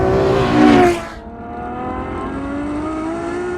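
A Ferrari GT sports car's engine revs up loudly up close, then the note drops sharply and settles into a steady, quieter drone as the car keeps driving in a straight line.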